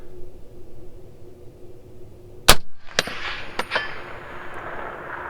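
A .308 Gen 2 AR-10 rifle fires a single sharp shot, followed moments later by faint metallic clangs as the round strikes a steel target 500 yards away, in quiet open air with little wind.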